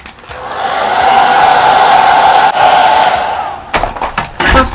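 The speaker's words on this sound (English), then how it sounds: "That's kind of why I comb it as I blow dry." A hair dryer blows loudly and close on a lace frontal wig while it is combed, a steady roaring whoosh that drops out near the end into a few clattering handling knocks.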